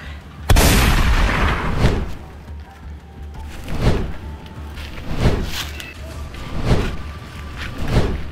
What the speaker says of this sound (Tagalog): nagpaputok pa kasi oh